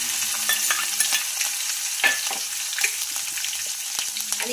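Green chilies and curry leaves frying in a pan, a bright continuous sizzle with scattered crackles and spoon stirring, close and fairly loud.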